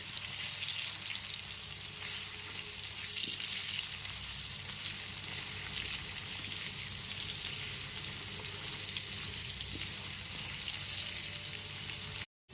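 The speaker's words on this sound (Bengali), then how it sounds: "এবার গ্যাসের ফ্লেমটা মিডিয়ামে রেখে আলুগুলোকে লাল করে ভেজে নেব" Potatoes fry in oil over a medium gas flame, giving a steady, dense sizzle that holds evenly throughout, close and fairly loud, with no voices.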